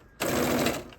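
A sewing machine runs a single steady burst of stitching along the 5/8-inch side seam of jumpsuit pants, close and fairly loud, starting abruptly after a quiet moment and slowing near the end.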